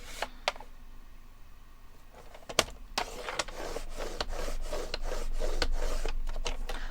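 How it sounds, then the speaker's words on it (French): A paper card is creased into folds at regular intervals, giving repeated short, close scraping and rubbing strokes with a few sharp taps. "Donc, je fais les plis à 6 cm."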